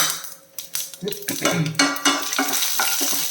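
Mustard seeds, urad dal and chana dal frying in hot oil in a pan, with sharp crackling pops and spoon-against-pan clatter from stirring, close and fairly loud, no talking.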